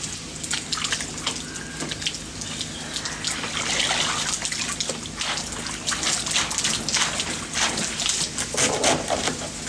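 Rambutan fruit being washed under running water, a continuous splashing and pattering stream with fruit jostling, close and fairly loud, no talking.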